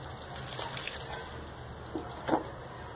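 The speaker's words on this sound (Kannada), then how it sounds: "ಇವಾಗ ಇದಕ್ಕೆ ಸ್ವಲ್ಪ ನೀರು" A little water is poured onto fresh soil around a potted tulsi plant, a faint trickle and a few soft drips, with one brief louder splash near the end.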